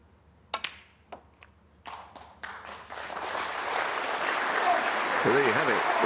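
Snooker crowd at a Players Championship final breaking into applause, starting with a few scattered claps and building into sustained clapping, with a voice speaking over the swell.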